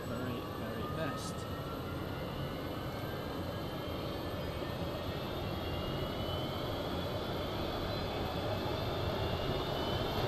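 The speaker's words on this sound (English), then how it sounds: "Bit of a loud jet." Loud jet aircraft flying over an outdoor air show at NATO Days, a steady broadband roar holding for the whole stretch with a faint whine on top, and voices chatting underneath.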